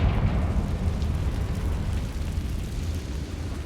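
A fiery explosion spell in the Hogwarts Legacy video game bursts with a loud, deep boom that rumbles and slowly fades over a few seconds.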